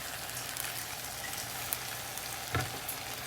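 Chicken breast on a high-heat grill gives a steady, soft, even sizzle like light rain, with a brief crackle near the end and no voices.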